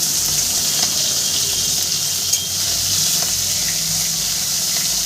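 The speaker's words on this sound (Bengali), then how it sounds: "দুইবারে আমি মাছগুলো ভেজে নেবো" Chapila fish frying in hot oil in a pan gives a steady, close hiss and crackle that runs alone from start to finish, with a few faint scrapes over it.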